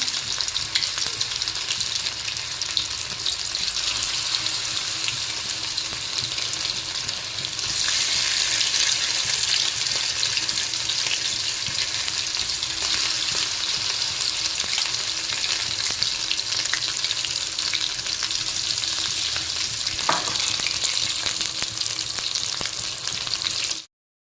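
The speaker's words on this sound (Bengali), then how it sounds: "এক এক করে আমি মাছগুলো তেলে দিয়ে দেবো" Small amude fish fry in hot oil over a medium gas flame, giving a dense, continuous sizzle and crackle that runs steadily throughout with no talking.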